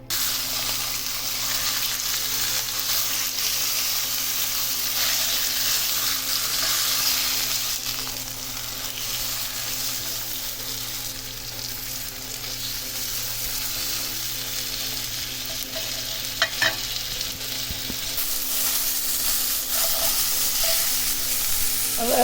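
Food cooking in a non-stick pan, a continuous, fairly loud sizzle and hiss with faint stirring scrapes, steady for over twenty seconds without speech.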